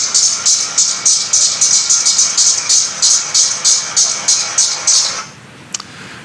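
Decula group periodical cicadas call in a loud, close chorus of rapid pulsing buzzes, about fourteen evenly spaced bursts in steady rhythm that break off near the end, leaving faint background.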